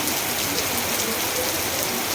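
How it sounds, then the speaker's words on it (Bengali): Steady rain pours down in a dense, even hiss, close and unbroken, with no voices. "এখন দেখো কি বৃষ্টি শুরু হয়েছে"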